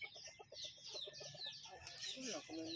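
Chickens cluck close by in quick, repeated bursts, with a higher squawk near the end, while faint background voices and outdoor noise sit underneath.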